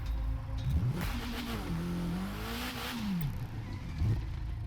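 A KTM X-BOW R engine in The Crew 2 revs up and down during a Mississippi street race, a moderately loud whining drone rising and falling through gear changes, with no talking.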